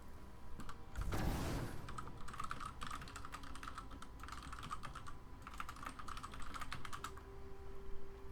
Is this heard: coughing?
no